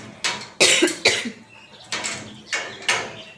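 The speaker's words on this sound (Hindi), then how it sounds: "पसीने से मेरा खांसी आ गया है।" Several sharp, harsh coughs in a short burst, close and fairly loud, with brief pauses between them.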